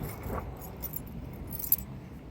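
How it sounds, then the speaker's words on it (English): Keys found in the trunk of a 1979 Chevy Malibu at a junkyard jingle softly, a brief metallic rattle with one sharper clink, close by and fairly quiet, with no talking. "In this trunk, saw some keys."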